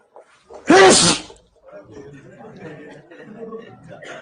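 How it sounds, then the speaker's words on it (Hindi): A single loud, sharp sneeze close to the microphone, followed by soft murmuring speech. "अभी अचानक छींक आई है"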